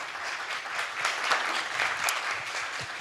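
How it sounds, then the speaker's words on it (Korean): A conference audience at the 2022 Jeju Forum applauds with a steady wash of clapping that holds at an even level from start to finish. "큰 박수 부탁드리겠습니다."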